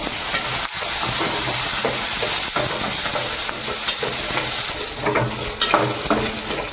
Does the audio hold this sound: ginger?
yes